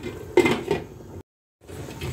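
A lid goes onto a cooking pot of chicken feet tinola with papaya, a metallic clatter and scrape up close, followed by a brief silence and then a low simmering background.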